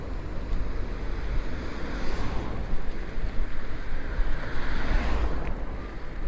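Ocean surf rolling along the Port-Louis coast in Morbihan near the citadel, a steady broadband wash mixed with wind buffeting the microphone, continuous and fairly loud with no talking.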